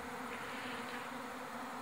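Honey bees buzz in a steady, quiet drone, many insects humming together close by with no voices, in Tasmania.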